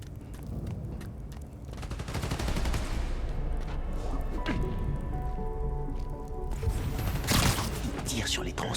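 Rapid gunfire bursts crackle in the Spider-Man Miles Morales video game, mixed with electrical hits and action effects beneath character voices speaking French.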